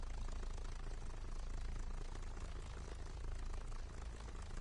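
A car engine runs steadily after being refueled, a low, even rumble with a constant broadband hum throughout and no speech over it.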